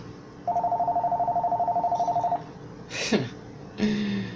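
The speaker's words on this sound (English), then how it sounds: "Oh, incoming call." A telephone rings with an incoming call, one steady electronic trill lasting about two seconds, followed by brief faint clatter and a short tone.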